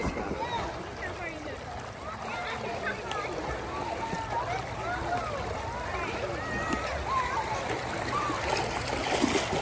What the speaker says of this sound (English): Learning how to use the water gun.